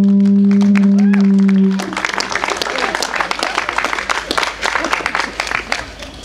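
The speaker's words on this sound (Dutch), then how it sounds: "Mag ik nog een applaus?" Audience applause with clapping follows a music set by a band at a youth arts festival in Gelderland, a steady burst of many hands after a held tone fades out.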